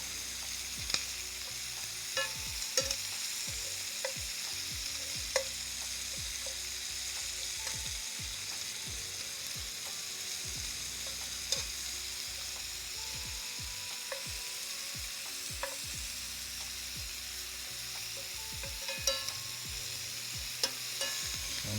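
Steak and shrimp sear in a hot pan with a steady, quiet sizzle, broken by scattered clicks and small taps of utensils over about twenty seconds, with no voices.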